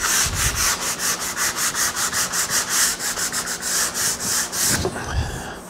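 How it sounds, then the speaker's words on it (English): Repeated back-and-forth strokes of sanding on a wooden handrail, a steady rhythmic rasping of about a dozen passes, close and fairly loud, ending with a couple of softer handling knocks. "I could sand it a little more, but that's good."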